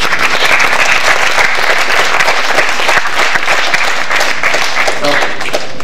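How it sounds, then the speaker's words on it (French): An audience at an event in Sète breaks into loud, dense applause that holds steady for several seconds, with crowd noise mixed in. "je crois qu'on peut les applaudir"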